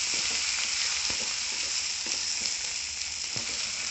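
Drumstick leaf chutney sizzles steadily in a hot pan with oil, a constant bright frying hiss broken by a few soft clicks and scrapes of a spoon stirring through the mixture, no voices.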